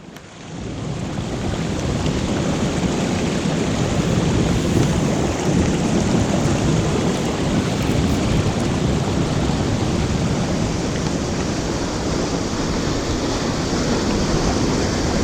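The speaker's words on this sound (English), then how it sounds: "But listen to that rain." Heavy winter thunderstorm rain pouring steadily outside a cave camp, a dense continuous roar with low thunder rumbling beneath, loud and unbroken throughout with no talking.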